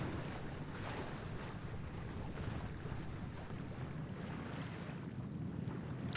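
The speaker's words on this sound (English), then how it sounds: "I'm happy to report that we are sailing, so engine off." Sailboat under sail with the engine off, wind roaring steadily across the microphone over the broad wash of waves and water along the hull, continuous and loud with no voices.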